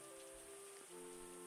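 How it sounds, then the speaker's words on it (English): Soft, steady rainfall in the Terroir wine making tycoon game, a faint hiss of falling drops under sustained low musical tones. "Got some rain coming in."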